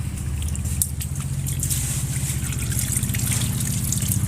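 Tap water trickles and splashes steadily while a potted plant is rinsed during repotting, making a loud, close, continuous flow with no break.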